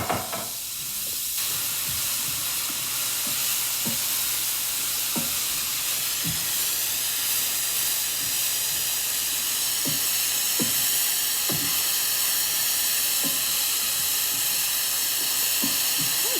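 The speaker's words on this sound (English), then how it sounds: "I think we're ready to add the onions and peppers into that. I'm gonna stir those up." Onions and peppers sizzle in a stainless steel pan, a loud steady hiss running throughout with small clicks of stirring scattered along it, close and unbroken with no talking.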